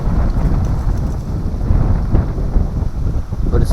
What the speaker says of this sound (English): But that wind's a little chilly.